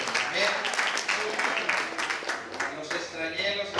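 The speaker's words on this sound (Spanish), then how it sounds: "dé una ofrenda de aplausos al Señor" A church congregation claps in praise during a Spanish-language worship service, rhythmic group applause at moderate distance with voices and cheering mixed in.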